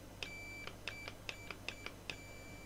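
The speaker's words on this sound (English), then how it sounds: "I get an audible beep and I also get an ohm read" A multimeter's continuity tester beeps repeatedly as a controller button's legs are grounded out, giving short, evenly spaced high-pitched chirps, faint and close against a low steady hum, with no talking.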